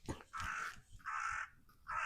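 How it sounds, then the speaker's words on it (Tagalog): Crows caw in a rural hillside setting while foraging for food: three or four loud, harsh, drawn-out caws come in a slow series, each separated by short gaps, with no talk heard. "ingay ng uwak"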